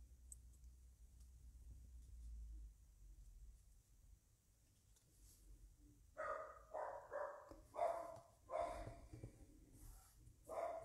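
Dogs barking at home in a rapid volley of loud, close barks that start after a quiet stretch with a low hum and a few faint clicks, then keep coming in quick repeated bursts.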